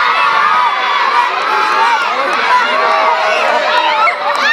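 A crowd of children shouts and cheers continuously and loudly at an outdoor Santa Claus descent event in December, a dense, sustained roar of young voices with overlapping excited cries.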